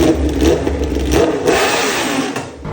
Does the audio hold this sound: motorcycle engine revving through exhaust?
yes